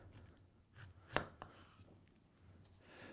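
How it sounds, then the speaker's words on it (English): A knife cuts a pineapple in half. The quiet, close-up scene has one crisp, sharp cut midway, a smaller follow-up tap and faint rustling around it. "And I'm gonna cut this in half."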